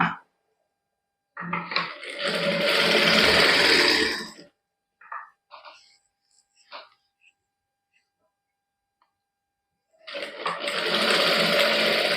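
Sewing machine stitching a lining onto a sleeve, running in two loud bursts of steady mechanical whirring separated by a quiet pause with faint handling clicks.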